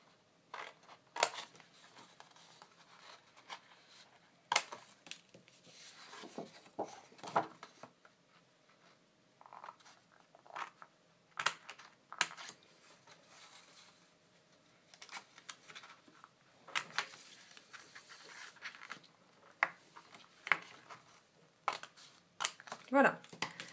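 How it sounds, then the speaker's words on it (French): Scissors snip away triangular sections of a paper card frame in a quiet craft setting, a series of soft, sharp cuts and crisp paper rustles in irregular bursts. "avec mon ciseau, j'enlève ces parties triangulaires que j'ai tracées"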